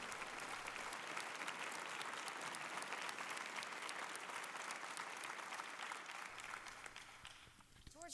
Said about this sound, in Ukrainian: Давайте подаруємо їм великі аплодисменти